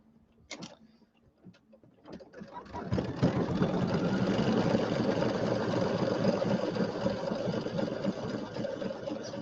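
Sewing machine stitching a basting outline around the edge of a penguin mug rug, starting with a few isolated clicks and taps before settling into a steady, rapid mechanical whir that runs on continuously.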